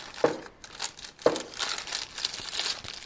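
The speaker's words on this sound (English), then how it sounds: "let's unwrap the die grinder" Plastic packaging crinkling and tearing as a Proto 120° die grinder is unwrapped, with two sharp crackles followed by softer rustling close to the microphone.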